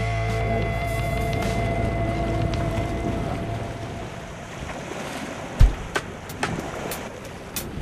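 Waves and wind on the open water of Lamon Bay, a steady, rough wash of surf with buffeting gusts, closing in a few sharper splashes and knocks.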